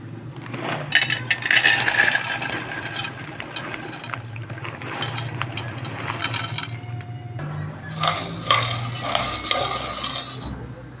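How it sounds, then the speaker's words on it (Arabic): Dry fusilli pasta browns in oil in a pan, with steady scraping, rattling and clinking of pieces being stirred against the metal over a low frying hiss, loud throughout with a brief lull near the middle. "حمرنا المكرونة"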